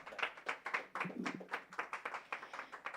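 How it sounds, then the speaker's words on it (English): Audience applause rings out at a corporate campaign launch for a connectivity brand in Eswatini, steady rhythmic clapping from a crowd sustained for about three seconds, moderately close and without speech over it. "Another round of applause for the CEO."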